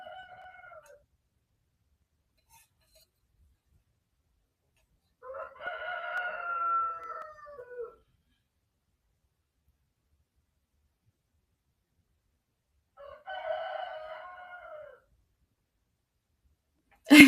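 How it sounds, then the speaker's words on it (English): A neighbor's roosters crow in the background, three separate drawn-out cock-a-doodle-doos spaced several seconds apart, faint and distant, with long quiet stretches between them. "They're my neighbor's roosters and not mine"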